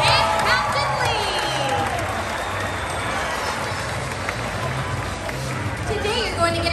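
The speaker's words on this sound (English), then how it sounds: "Let's give a round of applause" Steady crowd noise with a busy wash of clapping and cheering from an audience at a dolphin show, continuous at moderate loudness throughout.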